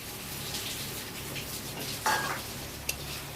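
Tamarind water poured into okra cooking in a pan, a soft wet sizzle and stir under steady frying hiss, with a brief splash and a small clink near the end.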